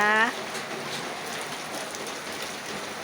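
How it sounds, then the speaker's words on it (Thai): Steady rain falls on a garden in a soft, even hiss across the whole stretch, with a short voice at the very start. "ยามเช้าตอนฝนตกค่ะ วันนี้มาดู สวนตอนฝนตกกันนะคะ"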